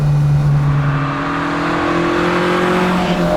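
A Ford Escort RS2000 MK2 race car with an original Pinto engine of about 160 horsepower and a dog-engagement gearbox, driven on a road: a loud, steady engine drone heard close up from inside, with rising tones as it pulls.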